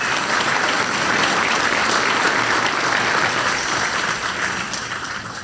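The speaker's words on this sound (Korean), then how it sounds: "다시 한번 박수 부탁드립니다." A crowd at a Korean presidential event breaks into steady, loud applause that fills the space, holding evenly before easing off slightly near the end.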